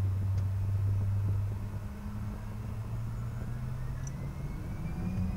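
A Global Express business jet's engines run for takeoff as a steady low drone with a faint, slowly rising whine above it, easing slightly in level after the first second.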